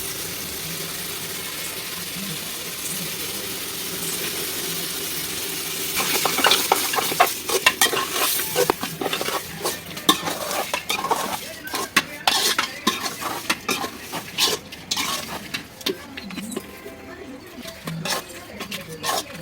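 Lightly salted tomatoes for chicken biryani fry in a pan; after a quieter simmering start, close, loud spoon stirring takes over with repeated scraping and sloshing strokes over a constant sizzle.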